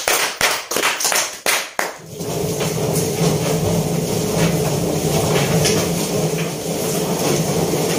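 Several sharp claps ring out near the start, then give way to a continuous roar of applause for a third-prize winner at a marketing prize draw, loud and sustained to the end.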